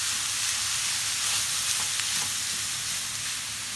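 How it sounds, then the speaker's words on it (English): Mince frying in a pan with cinnamon and cloves for moussaka, a loud, even, continuous sizzle with faint stirring, no talking. "So the mince now gets added to this, and then I'm going to add the spices"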